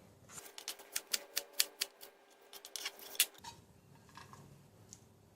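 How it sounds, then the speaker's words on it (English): A knife slices lemongrass on a cutting board, about a dozen crisp, quick chops in a fast, even rhythm, close and clear, followed by quieter handling sounds. "Lemongrass, I'm going to cut it into slices like that."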